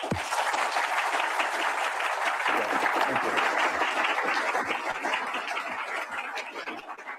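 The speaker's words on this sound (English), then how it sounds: "So a warm round of applause for him, please." Warm applause from an audience at a talk welcoming a legal scholar and historian, a loud, dense wash of clapping that swells early, holds and slowly thins toward the end.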